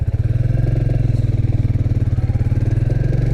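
A Royal Enfield Classic 350 motorcycle pulls away with a loud, close single-cylinder thump, an even rapid pulsing beat that holds steady as it moves off.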